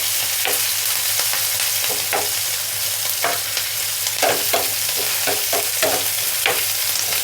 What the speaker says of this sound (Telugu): పచ్చిమిరపకాయలు, ఉల్లిపాయలు, కొద్దిగా ఫ్రై కానిద్దాము